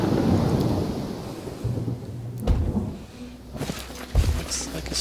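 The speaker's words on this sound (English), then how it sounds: "Looks like a storm's coming." Thunderstorm in the Pathfinder video game: low rolling thunder rumbles with a couple of sharp cracks, over a wash of rain, with a voice speaking intermittently in the mix.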